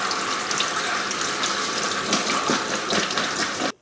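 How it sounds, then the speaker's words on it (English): Garden-picked banana peppers being rinsed under a running tap, a steady close splashing hiss of water into a sink that runs unbroken for nearly four seconds before cutting off abruptly. "The first step is to rinse them off to get rid of any dirt."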